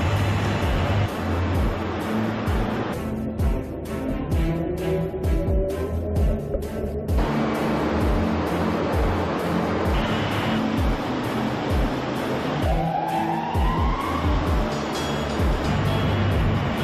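Silt-laden river water rushes at two metres per second through a test channel, making a steady, loud surging wash that carries on throughout.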